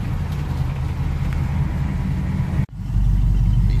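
A 1992 Chevy Silverado with a swapped 5.3 LS V8 drives down a road, its engine droning low and steady from inside the cab, cutting out briefly before returning louder.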